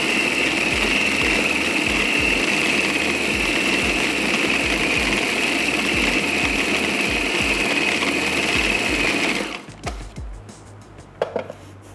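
An electric chopper whirs loudly and steadily as it mixes a kebab mixture, a close, constant motor drone with a rhythmic low thumping from the blades churning the mix, then it switches off and a few faint clatters follow.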